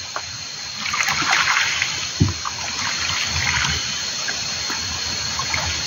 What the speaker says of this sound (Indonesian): Nah kemudian kita campur dengan air 10 liter sahabat. Kemudian kita aduk bersama gula merah.